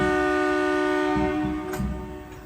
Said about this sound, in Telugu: ఏదో ట్రైన్ అయితే సికింద్రాబాద్ స్టేషన్కి వెళ్తుంది.